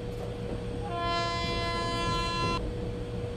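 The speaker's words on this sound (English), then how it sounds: "Make sure you honk repeatedly to alert the workers." An Indian Railways train sounds a single sustained horn blast of about a second and a half to warn track maintenance workers, loud over a steady rolling rumble.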